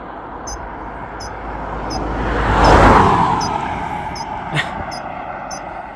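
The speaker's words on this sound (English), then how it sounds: "There's a car coming here." A car approaches and passes close by on a road, its rushing noise swelling to a peak and then fading, over a steady outdoor background.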